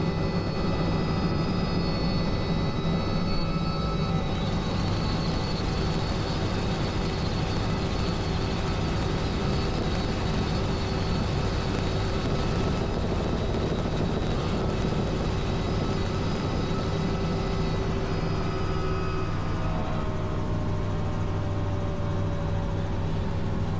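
A helicopter in flight heading back to base after takeoff, on a trip carrying jungle school teachers over flooded rivers; a loud, steady engine and rotor drone continues throughout with no talking.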